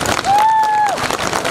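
An audience applauds at a winter traditions and customs show, a steady mass of clapping with a short, high whistle-like tone rising above it partway through.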